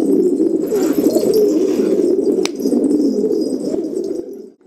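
Domestic pigeons in a coop in Antakya coo continuously and loudly at close range, a steady rolling murmur from several birds, with a brief sharp click near the middle and no talk.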